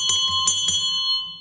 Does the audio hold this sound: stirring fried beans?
no